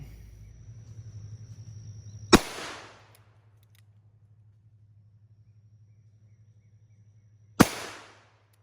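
A Smith and Wesson Model 629 .44 Magnum revolver fires two loud, sharp shots several seconds apart outdoors, each with a short fading echo, over a low steady hum.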